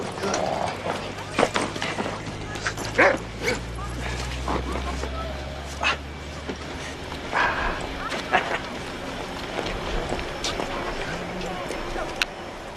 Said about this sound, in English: Good boy, good boy, good dog.